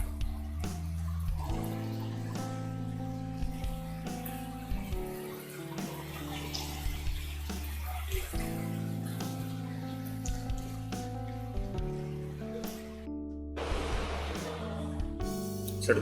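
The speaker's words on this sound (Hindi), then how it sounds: "लेकिन ये बारिश है, बहुत तेज बारिश है।" Very heavy monsoon rain pours down over a rooftop where water has pooled, a steady rushing wash of water running the whole time beneath sustained musical tones, with no talking.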